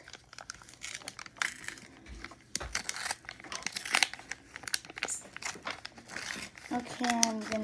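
Crinkly plastic wrapper of a Pokémon card pack from a Happy Meal toy being crumpled and torn open up close, in bursts of crackling rustle, with someone talking quietly in between.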